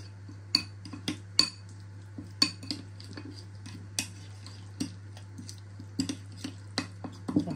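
A spoon stirs honey into a seasoning mix with Abkhazian adjika in a kitchen, giving a series of sharp metallic clinks and taps against the bowl at irregular intervals over a steady low hum.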